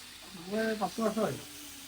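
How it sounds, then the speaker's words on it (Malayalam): A steady sizzle of chicken frying in a pan, with a voice talking briefly over the hiss. "അപ്പൊ നമുക്ക് ആവശ്യമുള്ള ചിക്കനൊക്കെ ഏട്ടൻ പൊരിക്കുന്നുണ്ട് കേട്ടോ"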